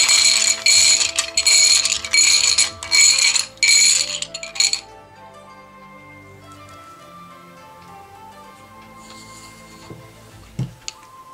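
Small dice rattle and clatter loudly in quick bursts, then give way to a softer, lingering ringing tone with a few faint clicks near the end.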